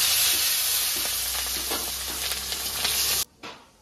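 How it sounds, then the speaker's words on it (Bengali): Potato pieces frying in hot oil while a spicy Bengali shol fish curry is being made, a steady close sizzle that crackles throughout and then cuts off abruptly near the end. "এখন আলুগুলো ভেজে নেব"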